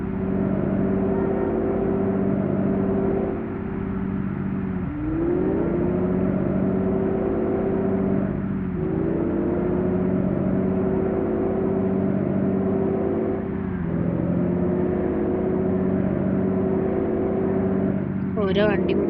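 A vehicle driven hard on the road, its engine droning loud and close and rising in pitch through repeated gear shifts as it accelerates and revs.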